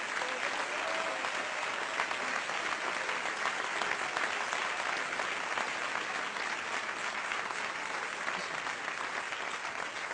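A church congregation applauds steadily and fairly loudly, a dense, continuous wash of many hands clapping without pause for the full length.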